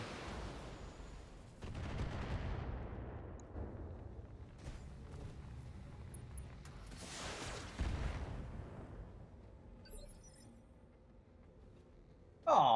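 Mechs in the video game BattleTech firing on buildings in urban combat, a run of booming weapon blasts and rumbling impacts spread over several seconds at moderate loudness.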